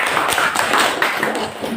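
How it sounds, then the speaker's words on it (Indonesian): A classroom claps for a student group after a discussion presentation, a short burst of close, fairly loud hand claps with uneven rhythm. "tepuk tangan untuk kelompok 3."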